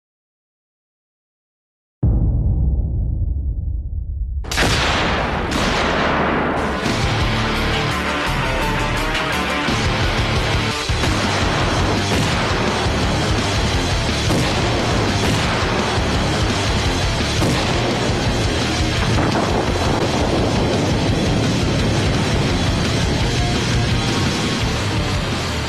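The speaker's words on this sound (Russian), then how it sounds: "Здесь мина работала ТМ-83 по принципу ударного ядра" A TM-83 anti-tank mine, a shaped-charge mine with a magnetic fuse, goes off with a sudden loud blast, followed by a second heavier crack and then a long, continuous roar with scattered bursts that fills the rest of the clip.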